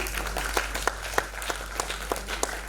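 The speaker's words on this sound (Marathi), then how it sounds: "टाळ्या होऊन जाऊ देत एकदा त्यांच्यासाठी" Scattered audience clapping at a Maharashtra Ratna award ceremony in Pune, with individual claps popping out sharply from a steady, moderately loud wash of applause that holds for a few seconds.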